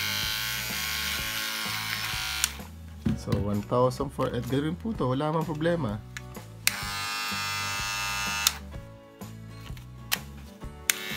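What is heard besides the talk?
Kemei electric foil shaver running noisily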